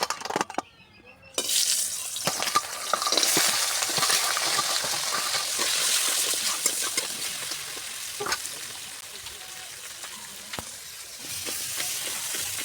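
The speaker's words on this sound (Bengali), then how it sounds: "দেখো, তেলটা গরম হয়ে গেছে, এবার কাঁকড়াগুলো ভেজে নেব।" Crabs frying in hot mustard oil in a wok, a steady sizzle with scattered crackles and clicks of stirring, beginning after a short quiet moment.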